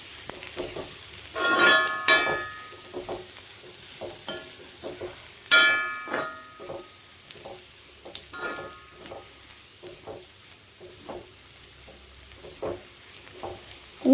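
Egg rice fries in a pan while Kashmiri chili powder is stirred in, giving a soft sizzle broken by scraping spoon strokes and a few louder clinks against the pan.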